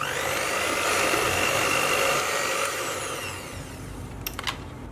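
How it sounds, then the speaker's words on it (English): An electric mixer running on low speed mixes flour into walnut cake batter, a steady loud whirring hum that eases off partway through, followed by a few faint clicks. "just on a low speed we're going to mix this all together"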